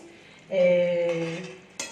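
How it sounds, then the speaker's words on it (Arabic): A stainless steel spoon scrapes inside a cooking pot while a sauce is being made, producing a squealing, tonal scrape of about one second, followed by a short metallic clink near the end. "انت بتستخدمي معالق ستانلس وعماله تكحتي"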